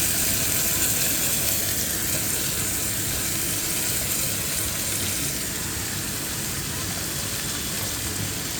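Prawns frying with spices in a pan during Bengali home cooking, a steady dense sizzle that holds evenly throughout at moderate loudness with no speech over it.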